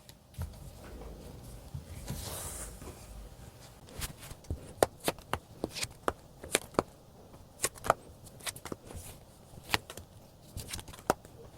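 Tarot cards are shuffled and drawn for a relationship reading, giving a run of sharp, crisp card snaps and slaps that land close and irregular, with a soft riffling rustle near the start and no talking.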